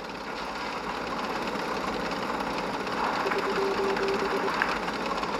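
A tank engine in World of Tanks Blitz runs under an engine booster, a steady dense mechanical drone with a faint rising whine near the end, continuous and fairly close, no voices.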